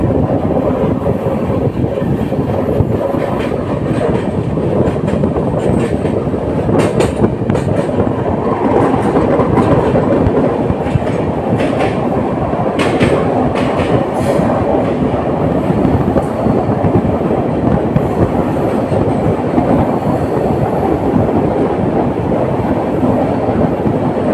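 The 13151 Jammu Tawi Express running on rails between Kumardubi and Dhanbad Junction, a loud continuous rumble with rhythmic wheel clatter heard from inside the coach, with no talk.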